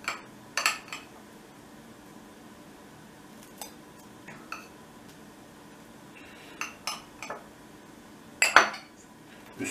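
A knife and cutlery clink and scrape against a plate while fresh, warm village bread is split and buttered, a handful of sharp close metallic taps scattered over a quiet background.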